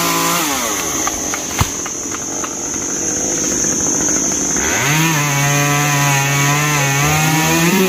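A chainsaw cuts down a mango tree, its engine running steadily throughout. Around five seconds it revs up into a loud, sustained high whine that holds to the end.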